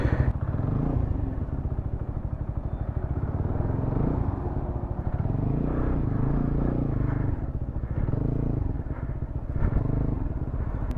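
A Zontes Scrambler 125 motorcycle engine runs steadily and close by for the whole stretch, a continuous low rumble with a lumpy, uneven throb and some mechanical clatter and no talk.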